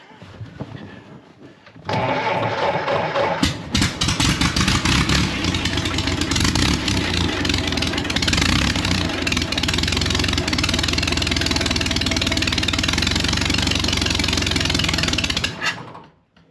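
A 1927 Ford Model T Speedster engine fires up after a quiet start and runs steadily with a loud, rough, close mechanical clatter that continues for many seconds before cutting out at the end.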